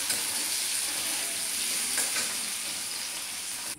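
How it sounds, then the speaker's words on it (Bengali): Potatoes fry in a pan with a steady, close, loud sizzle that holds evenly throughout, with no voices. "আলু ভাজাটা করে নিচ্ছি"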